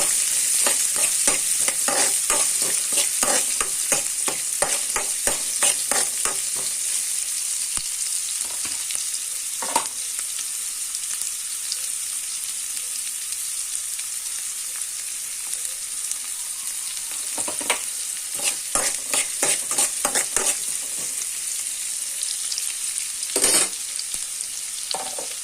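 Onions frying in a pan while being stirred, a steady high hiss of sizzling oil broken by repeated clusters of scraping spoon strokes, close and loud with no talking.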